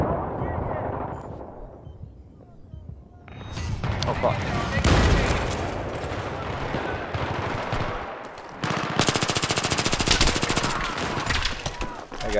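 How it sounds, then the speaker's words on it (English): AS Val rifle gunfire in a multiplayer shooter game at Ziba Tower, with rapid bursts of automatic fire and echoing shots, loud and sustained, mixed with distant explosions and a voice talking at moments. "Oh, nice shots with the ASVal."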